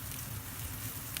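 Campfire burning hot and roaring, heard as a soft, steady hiss with faint scattered crackles, quiet and unbroken for about a second.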